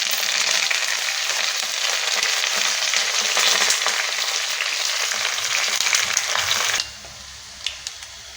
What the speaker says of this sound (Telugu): తాలింపులోనే పసుపు పసుపు యాగనివ్వాలండి తాలింపులో వేగేసేయాలి తాలింపు వేగిపోయింది